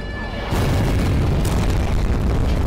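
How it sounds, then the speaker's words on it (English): Big explosions in a Skibidi Toilet animated battle burst in after a brief lull, becoming a loud, continuous rumbling roar of booms and blasts that carries on to the end. "Behind him there are big explosions from which big flying SKIBIDI rocket launchers appear"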